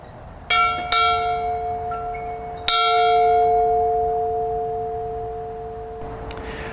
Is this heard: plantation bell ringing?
yes